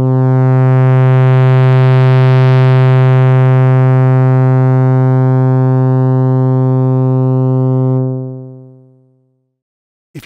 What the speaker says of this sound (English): There is a bit of a fizz being animated in and out as we go in and out of that saturation zone.